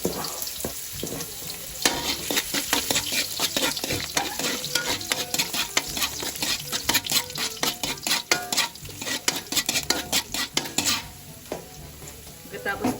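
Ginger sizzles steadily in hot oil in a frying pan, close and loud, with repeated scraping and clinking from a utensil stirring it and no voices.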